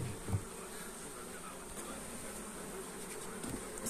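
Honey bees hum in a steady, dense drone at an opened hive, a continuous close buzz with faint bumps and handling noises now and then.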